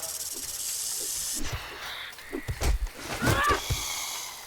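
A snake hisses in a video game, with short breathy hisses and scattered game sounds over a low background, and a faint voice in the mix.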